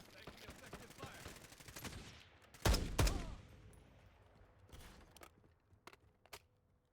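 Gunfire in Call of Duty Warzone on the Verdansk map, scattered shots and short bursts at moderate distance, with a pair of loud close blasts midway, then sparser distant pops.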